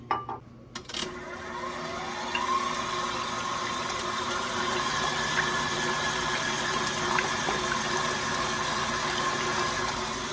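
Egg whites being whisked to stiff peaks for homemade marshmallows, heard as a steady, continuous motorized whir that runs loud and even for the whole stretch after a few brief knocks at the start.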